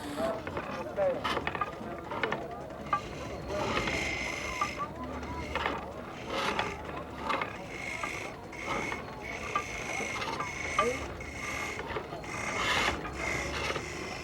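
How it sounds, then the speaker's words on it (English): A woodworker turns a poplar or mulberry cradle leg on a primitive bow-driven lathe near an oasis, producing repeated rasping and scraping strokes in an irregular back-and-forth rhythm, with some background voices. "Here's a woodworker spinning a primitive lathe by means of a bow held in his right hand. He's turning a leg for a cradle."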